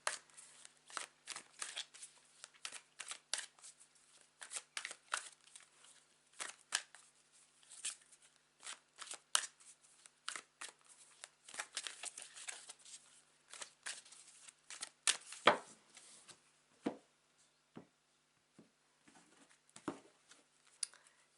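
Tarot cards are shuffled by hand in a quiet room, giving a steady run of soft, close riffling and tapping bursts in an irregular rhythm, with no talking.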